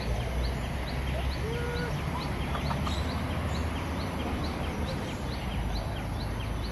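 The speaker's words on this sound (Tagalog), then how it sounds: "Sobrang dami ng manok." Many chickens cluck and chatter at once in a dense, constant din, with short overlapping calls rising from a noisy crowded flock.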